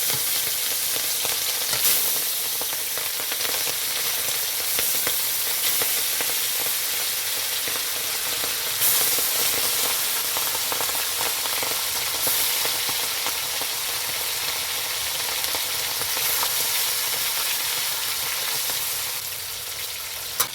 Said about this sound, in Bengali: তেলটা আমার গরম হয়ে গেছে, এখন আমি মাছগুলো দিয়ে দিচ্ছি ভাজার জন্য